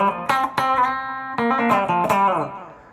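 Electric guitar played through a Fender Mustang GTX amp with an echo effect: several strummed chords and plucked notes ring out clean and bright, with repeats trailing off and decaying at the end.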